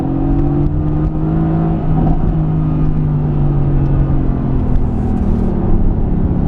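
A Mercedes-AMG GT S in race mode with automatic shifting accelerates hard, its engine note loud and close. The engine drones steadily upward, with a brief gear-change dip around the middle.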